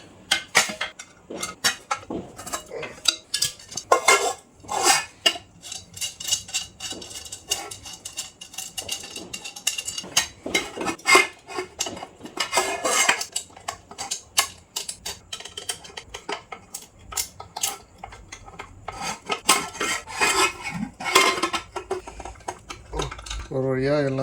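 Someone tightens the handles on three Leo pressure cookers with a screwdriver, giving a dense run of close metallic clicks, taps and clinks with speech mixed in.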